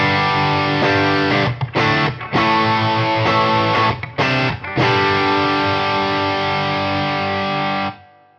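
Electric guitar driven through two channels of a Yamaha THR100HD at once, each feeding its own mismatched cabinet speaker, giving loud, distorted sustained chords with a few brief choked gaps before a final ringing chord cuts off.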